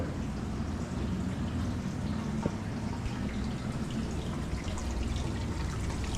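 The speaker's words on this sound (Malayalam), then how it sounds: "ഇവിടെ വരുമ്പോൾ നമുക്ക് വെള്ളം ഒഴുകുന്നതായിട്ട് ഒരു ചെറിയ സംഭവം ഒപ്പിച്ച് വെച്ചിട്ടുണ്ട്" A small flowing water feature at a heritage home in Oman trickles and drips steadily and close by, with no one speaking.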